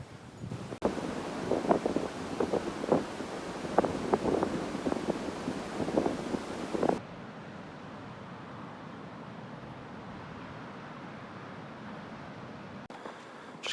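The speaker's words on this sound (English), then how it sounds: "hopefully the rise and fall of the fields behind me might slow that wind down a little bit" Strong wind blows across open fields at a campsite near Southwold, a steady roar buffeting the microphone, with a brief cut before the gusting continues at a slightly lower, even level, no voices.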